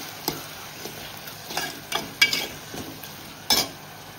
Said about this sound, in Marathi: टोमॅटो टाकूया आपण। टोमॅटो पण लो फ्लेमवर शिजवून देऊया।